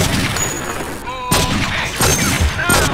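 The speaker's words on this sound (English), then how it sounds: "Time to aim at a target. Then fire away!" Rapid gunfire bursts from the video game True Crime: New York City, several sharp loud shots in quick succession with brief gaps between volleys.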